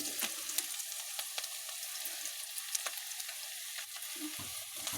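Turmeric goes into a frying pan of hot oil for a fish curry, with a steady bright sizzle and crackle plus scattered sharp pops and soft stirring scrapes throughout, close and continuous.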